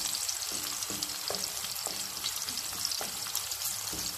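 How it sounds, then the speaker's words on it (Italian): Leek sizzles steadily in hot oil in a pan on a gas stove, the start of a lobster spaghettoni sauce. The frying hiss is close and continuous, broken by a few soft clicks from stirring. "Il porro comincia a sfrigolare, lo lasciamo sfrigolare per un minuto e mezzo."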